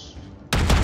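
A sudden loud burst of heavy naval gunfire erupts after a quiet moment in World of Warships, booming and dense, like cannon fire.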